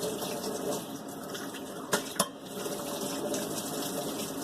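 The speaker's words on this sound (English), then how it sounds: "Grab some hot water into it." Hot water runs steadily from a kitchen tap into a measuring cup, a soft continuous hiss with two small clinks of the cup partway through.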